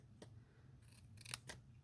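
Scissors snipping through patterned card for a quilt-technique card, a few quick close crisp snips, quiet and alone.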